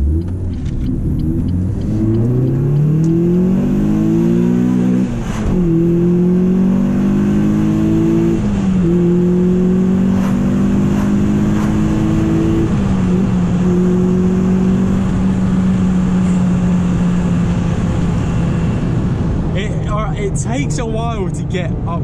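Renault Clio 197 engine revving and pulling hard through the gears, a loud rising engine note that climbs, drops at each shift and climbs again, heard from inside the car with someone talking over it.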